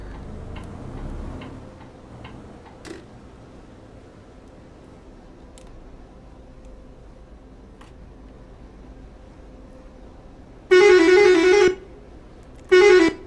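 A loud, blaring horn sounds twice in Euro Truck Simulator 2, a long blast then a shorter one, after a stretch of quiet ticking and faint engine rumble.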